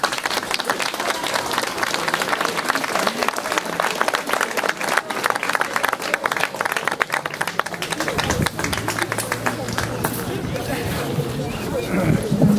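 An audience at a plaque unveiling for the poem Infinito applauds with steady, dense clapping, crowd noise and voices mixed in throughout.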